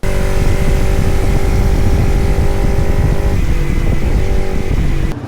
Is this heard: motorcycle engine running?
yes